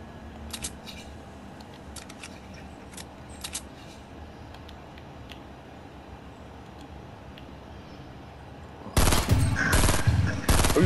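Fortnite gunfire: a few faint, scattered shots early on, then a loud, close burst of rapid automatic fire near the end.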